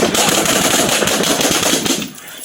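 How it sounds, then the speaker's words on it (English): Officers fire department-issued handguns in a rapid, dense volley of loud, close shots lasting about two seconds before tapering off, recorded at close range on a body-worn camera. "Here is body-worn camera video from one of the officers who discharged their department-issued firearm."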